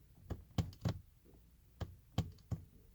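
Sharp plastic clicks from the power window switch in a 2018 Mazda CX-5 GT interior, several short taps in two pairs, close and distinct in a quiet cabin.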